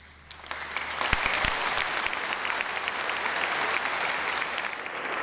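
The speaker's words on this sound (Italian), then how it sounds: "Un applauso lungo e scrosciante per festeggiare Monsignor Michele Tomasi" Long, thunderous applause in a cathedral celebrating the ordination of new bishop Michele Tomasi, building from scattered claps into a sustained, reverberant roar of clapping from a large congregation.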